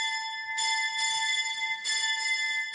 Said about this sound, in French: à l'abbaye de Chantelle, les cloches sonnent la prière des laudes